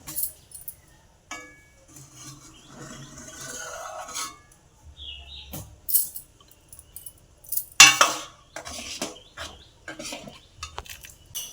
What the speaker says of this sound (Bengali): ডালে একটা ফেনা ওঠে, সেই ফেনাটা ফেলে দিচ্ছি